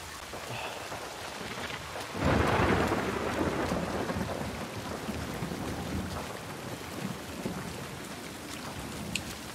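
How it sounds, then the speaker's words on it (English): Steady heavy rain hisses throughout in The Last of Us Part II, with a deep rumble of thunder rolling in early and fading slowly beneath the downpour. "The rain has come again."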